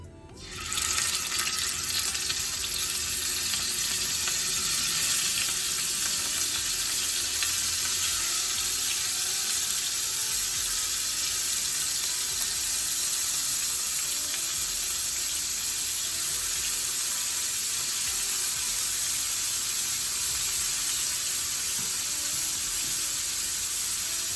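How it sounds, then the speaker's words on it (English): Scallops searing in hot olive oil in a pan give off a loud, steady, dense sizzle that holds unbroken from start to finish. No voices. "I'm using olive oil to cook the scallops today"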